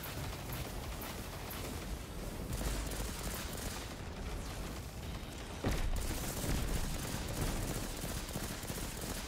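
Rapid bursts of pulse rifle fire in the Destiny 2 game, a dense, steady crackle of shots running throughout with a louder surge near the end.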